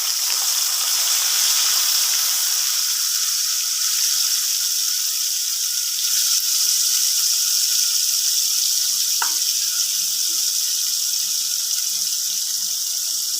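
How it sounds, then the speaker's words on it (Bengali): Ground spice paste sizzling and frying in hot oil in a pan for a Bengali doi potol (potato-style pointed gourd in yogurt) dish, a steady loud hiss throughout with a brief sharper crackle midway, no talking. "এর মধ্যে আমি বেটে রাখা মশলাটা দিয়ে দিচ্ছি।"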